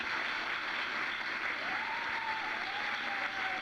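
Studio audience applause for a newsman on a late-night talk show, a steady sustained clapping wash heard alone at moderate level, with a faint tone sliding in partway through.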